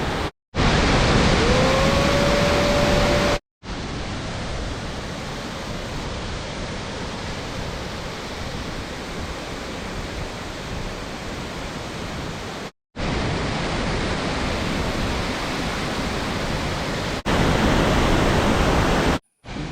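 A loud, continuous roar of falling water fills the clip, broken by a few abrupt cuts to silence.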